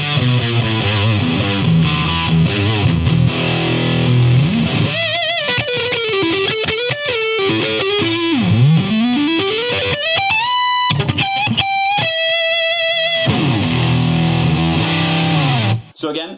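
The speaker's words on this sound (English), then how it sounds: "if you max the gain and the lean fat knob, you get kind of like a fuzz tone" Heavily distorted, fuzzy electric guitar through a Yellow Squash Sound Labs Acid Burn Overdrive pedal with gain maxed, playing riffs and bending lead notes, loud and gritty, with a few pauses between phrases.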